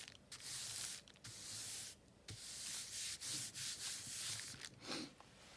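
Napkin paper smoothed flat by hand over a glossy junk-journal image, giving a run of close, papery rubbing swishes with brief pauses between strokes.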